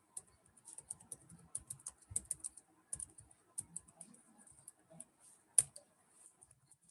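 Keyboard keys tapped in quick irregular bursts while entering a probability formula, crisp clicks close up with short pauses between runs and one louder stroke near the end.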